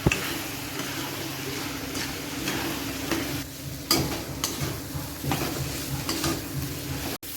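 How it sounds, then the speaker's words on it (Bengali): Paneer sautéing in a pan for potol paneer rosha, a steady sizzle of frying under repeated scraping and stirring of a utensil against the pan, with a sharp clink near the end. "পনিরও দিয়ে দিব, দিয়ে ভালো করে কষাবো।"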